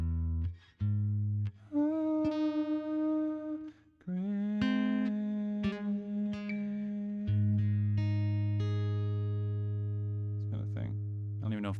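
A guitar plays the closing chord of an arrangement, a few single notes and plucked tones ringing out and sustaining into a low, open final chord, close and moderately quiet with no talking.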